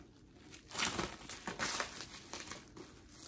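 New gift wrapping paper is unrolled and crinkled at close range, with fairly soft rustling bursts that swell and fade over a few seconds and no speech.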